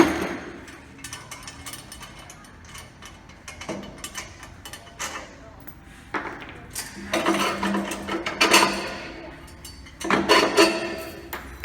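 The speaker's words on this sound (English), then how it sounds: "Grab my spanners and take that jockey wheel off." Spanners working loose a jockey wheel on a Warrior sawmill, giving close metallic clanks, ratcheting clicks and scraping in uneven bursts that grow louder toward the end.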